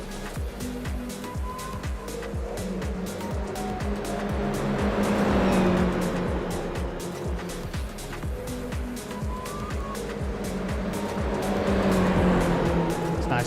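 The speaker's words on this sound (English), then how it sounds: "they're going to do a little formation flight down the start-finish straight here by the look of it" Toyota GR86 race cars run together in formation down the start-finish straight at the Long Beach street circuit, a continuous loud engine roar with rattling mechanical pulses that swells twice as the pack passes close.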